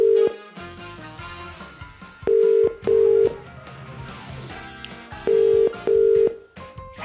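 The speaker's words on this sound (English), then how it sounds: "Is that your phone?" A telephone rings in a studio in repeated double bursts of a steady electronic tone, two pairs clearly separated by a pause, loud and close over a faint background hum.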